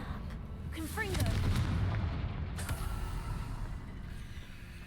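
Fiery blasts from a fire spell in the Hogwarts Legacy video game, heavy booming impacts with rumbling echoes and a sharp whistling streak, plus a crackling hit partway through and another distant thump afterward.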